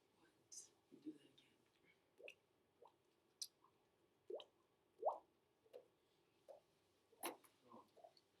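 A person imitates a water drop with the mouth, making a string of soft, close plops and clicks spaced at irregular intervals over quiet room tone.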